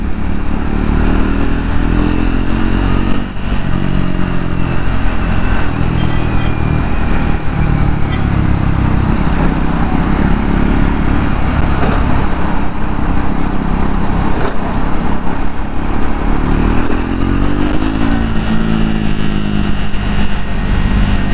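A Triumph Scrambler 400 X motorcycle rides along with a loud, steady engine drone that rises and falls through gear changes, close and continuous throughout, with wind rush mixed in.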